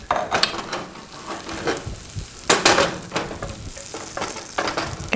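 Minced onions sizzling in melted butter in a pan, steady frying with several louder scraping stirs close by and no talking.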